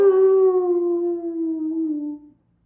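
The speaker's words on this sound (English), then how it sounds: "He heard howling just outside the door, and then another howl joined it, and then another and another." A howl from outside a castle door, a single long wavering tone with clear harmonics, steady and fairly close, slowly falling in pitch before cutting off after about two seconds.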